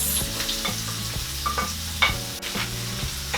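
Chopped onion added to garlic already browned in a pan for chicken-feet adobo, frying with a steady close sizzle while a utensil stirs and scrapes in repeated strokes.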